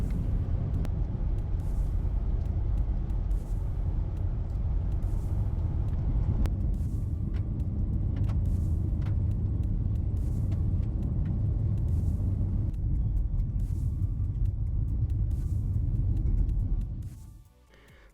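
A car drives along rural back roads, its steady low engine rumble and road noise continuous and close for most of the stretch before fading away near the end.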